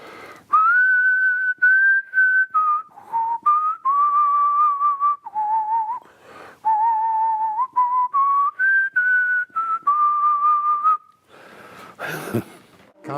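A person whistles a clear, steady melody alone, phrase after phrase of sustained tones with short breaths between them, close and fairly loud, ending with a brief rustle.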